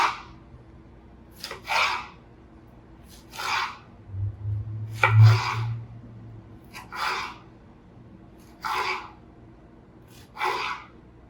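Knife cutting through a chilled log of Christmas cookie dough, about seven separate slicing strokes spaced at a steady rhythm, each a short soft scrape, close and clear with no talking.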